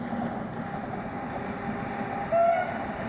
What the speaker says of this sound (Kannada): ಹೋಗ್ತಾ ಇದೆ ನೋಡಿ ರೈಲು